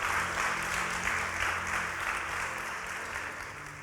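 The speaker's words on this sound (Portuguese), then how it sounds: "Pode aplaudir a Jesus, glória a Deus." A church congregation applauding during a sermon, a dense, steady clatter of many hands clapping that slowly fades a little toward the end.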